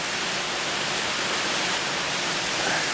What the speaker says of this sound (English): I can't walk out there just yet, it's pretty rainy for that,